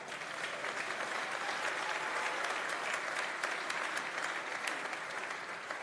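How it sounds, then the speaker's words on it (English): Congregation applause at a pastors' conference session in a church hall, an even, sustained wash of many hands clapping at a moderate distance, with no voices rising above it. "If you want to clap, clap well."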